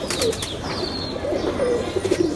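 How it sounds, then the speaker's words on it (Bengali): Saharanpuri Kaldum Indian pigeons give soft, low coos in short repeated phrases, close by, amid light background noise and a few higher chirps. "এটা হলো সারণপুরি কালদম ইন্ডিয়ান কবুতর"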